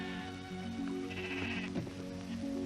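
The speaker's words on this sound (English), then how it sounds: "Where are they taking these sheep?" Sheep bleat over a steady, tonal background that runs the whole time, with wavering cries rising out of the mix.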